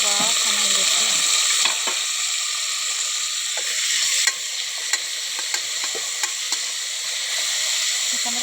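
Chopped tomatoes and garlic frying in hot oil give a steady, loud, close sizzle. Faint stirring taps and clicks sound over it throughout.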